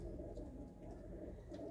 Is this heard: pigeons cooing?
yes